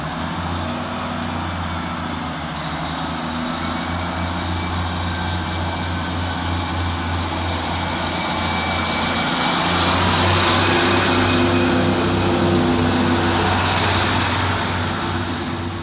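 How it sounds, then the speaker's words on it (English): A CrossCountry train, unit 221130, passing Adwick railway station, a long steady roar of diesel engines and rolling wheels that swells louder toward the middle and then holds, heard from the platform with no voices. "Next up for cross country is 221130, working 1 Sierra 45 from Plymouth to Edinburgh Waverley."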